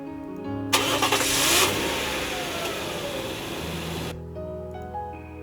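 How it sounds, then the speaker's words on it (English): A car engine cranks and catches, a burst of noise that settles into a steady idling rumble before cutting off. "In moments, the sound of the engine reverberated in the interior."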